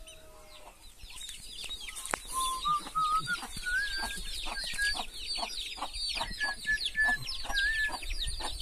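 A flock of chickens and small chicks clucks and peeps close by, with a busy run of high chirps and soft clucks throughout and a brief murmur from a person.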